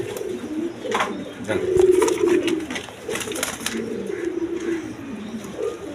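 Satin pigeons coo in low, throaty, rolling phrases nearby, several overlapping calls rising and fading over a few seconds amid light rustling and faint background noise.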